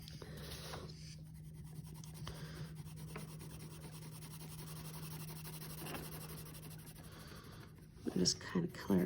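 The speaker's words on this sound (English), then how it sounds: "I just kind of color it really fast." A marker rubbed quickly back and forth on paper while coloring a giraffe drawing, a soft close scratching under low background hum, with louder handling noises at the end.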